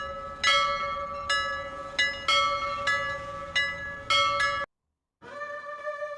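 Temple bell struck repeatedly with a clear metallic ring, about seven strokes in an uneven rhythm with overlapping resonance, then a brief silence before another loud stroke rings out; no speech.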